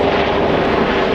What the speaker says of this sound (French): Ah, un hélicoptère.